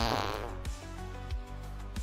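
A cartoonish fart sound effect pops up during a game-development livestream, a loud, sputtering burst at the start that trails off, with tonal background audio and voices running underneath.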